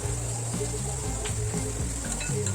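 Onion, chili, red chili powder and turmeric sizzle steadily in a wok, a close, continuous frying hiss with occasional stirring scrapes and clinks.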